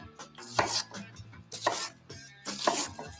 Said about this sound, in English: With the weight of the blade to cut through that onion.